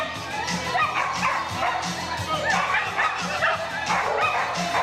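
Repeated yips and barks from a dog at a numbered-bib competition event, amid a noisy, crowded setting with people talking and cheering in the background.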